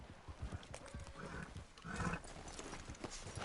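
Horse sounds from the Red Dead Redemption 2 video game on PS4, with repeated hoof clip-clop and snorting movement running steadily throughout at moderate loudness amid ambient game noise.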